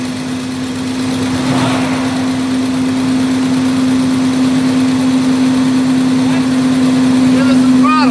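A broken-down RV's engine runs with the throttle applied, a steady, strong hum with a fixed tone that grows slightly louder as it revs, while people talk nearby.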